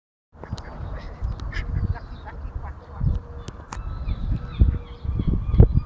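A duck on grass quacks repeatedly in short, irregular bursts close by, with rustling and faint handling noise between the calls.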